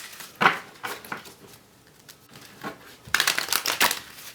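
A deck of tarot cards is shuffled and handled close up in a few short papery bursts, the last and loudest coming near the end.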